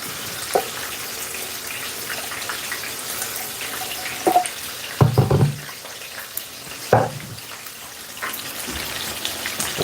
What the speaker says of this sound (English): Hot water over this.